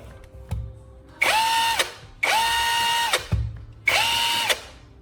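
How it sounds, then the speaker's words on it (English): A cordless drill whirs up to speed three times in short bursts, each spinning steadily for about a second before winding down, loud and close. "I squeeze the trigger, and the drill comes to life again."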